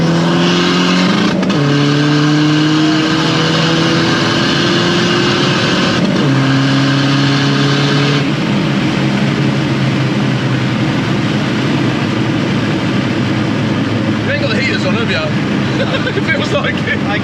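Seat Ibiza FR diesel, around 500 bhp with nitrous, accelerating hard with the wheels spinning, engine droning loudly from inside the car as it climbs through the gears with several shifts, while people talk over it.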